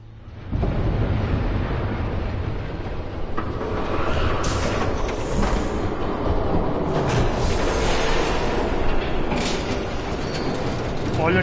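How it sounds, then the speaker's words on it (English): A train thunders past in Batman: The Telltale Series, a loud continuous rumble with metallic clanking and screeching that fills the whole stretch, close and steady throughout. "There's a train coming. Take cover."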